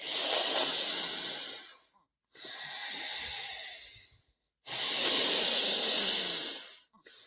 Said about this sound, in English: Breathing through the nose.